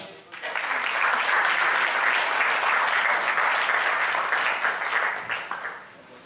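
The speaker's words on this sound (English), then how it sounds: "And super awesome round of applause for Shailesh" An audience claps together in a thick, steady wave of applause that holds for several seconds and then fades out.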